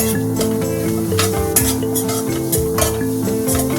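Grated carrot is stirred into a mince curry frying in a pan, with a continuous sizzle and frequent spoon scrapes and clinks against the pot, loud and close over a steady tonal background.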